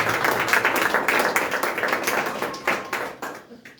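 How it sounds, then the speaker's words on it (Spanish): Church congregation at a marriage gathering clapping together: a short burst of rhythmic, fairly close hand claps that fades over a few seconds. "¿Cuántos le pueden dar un aplauso al Señor,"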